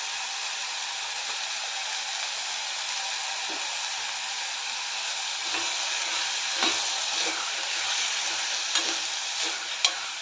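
Chickpea and potato masala sizzles in a pan while being stirred, a continuous frying hiss broken by soft scraping knocks of the spoon, close and with no voices.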